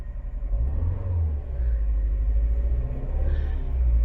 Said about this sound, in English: Sounds to me like it's running on 3 cylinders